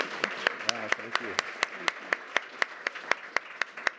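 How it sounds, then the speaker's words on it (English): Audience applause for a panel of experts at a talk on creativity and innovation, a steady round of rhythmic claps with a voice briefly heard over the start. "I just want to lead a round of applause for these amazing experts."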